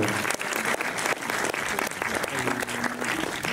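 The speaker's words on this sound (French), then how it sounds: "vous pouvez vous applaudir" A lecture audience applauds itself with dense, lively clapping throughout, while a voice speaks faintly underneath.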